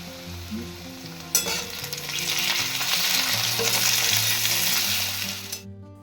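Tomato dropped into hot mutton fat in a pan, a sudden loud sizzle that settles into steady crackling frying with light stirring, no talk.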